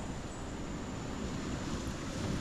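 Ocean waves wash onto the beach at Drake Bay, Costa Rica, as a steady, loud broadband surf wash mixed with wind noise, with no talking.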